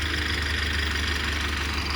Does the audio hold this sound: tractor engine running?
yes